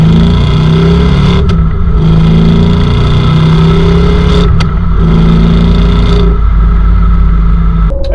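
Audi S4 fitted with a Fast Intentions exhaust system, revving loud and close in a steady run of rising and falling blips over a deep, continuous engine drone, with no talking.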